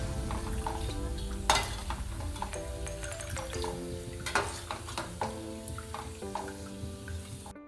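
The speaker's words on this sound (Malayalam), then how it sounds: "നമ്മൾ കപ്പലണ്ടി ഇവിടെ മൂത്തിട്ടുണ്ട്" Peanuts for masala peanuts fry in hot oil over medium heat with steady bubbling sizzle and scattered scraping and clinking of a spoon as they are stirred, close and moderately quiet.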